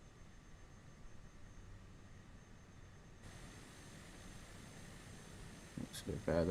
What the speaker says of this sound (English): So I'm going to be taking off from this runway.